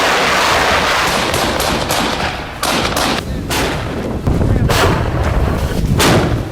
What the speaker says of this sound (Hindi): बाइडेन की यात्रा से ठीक पहले रूस ने यूक्रेनी बॉर्डर पर जबरदस्त हमले किए हैं।